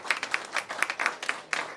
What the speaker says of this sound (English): give a warm round of applause to Sabongle Cook and Kellyanne Kirkpatrick